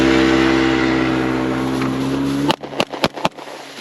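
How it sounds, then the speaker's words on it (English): Four sharp, close pistol reports from 10mm and .44 Magnum handguns fired in quick succession at a charging target, ringing out right after a loud, steady mechanical drone cuts off. "We got 4 shots off again."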